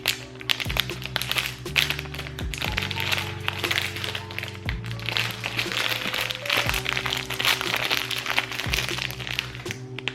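Bearbrick figure boxes being opened by hand, close-up crinkling, tapping and cardboard cracks over steady background music.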